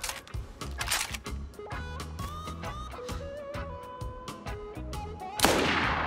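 Gunfire aimed at an armored vest in DayZ, a run of sharp, evenly spaced shots cracking one after another, ending in a louder burst, with no talking.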